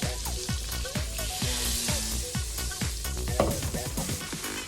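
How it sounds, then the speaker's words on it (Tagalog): Prawns stir-fry in a hot pan with steady loud sizzling, punctuated by repeated scraping and clinking strokes of a utensil against the pan, close up with no talking. "Pero stir fry ko lang siya para masarap."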